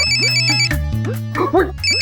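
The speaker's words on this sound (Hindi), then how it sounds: "तेरा फोन बज रहा है।" A mobile phone ringtone plays as a repeating melodic tune, loud and close, with a brief murmur of voices partway through.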